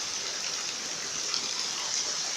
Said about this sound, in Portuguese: Uma chuva.